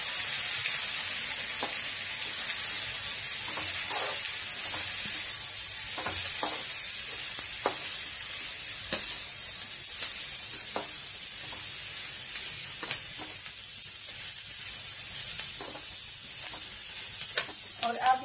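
Karela besan masala sizzles steadily in a pan with a bright hiss, while a spoon stirs it in scattered scraping knocks, close and continuous over a long stretch without talk.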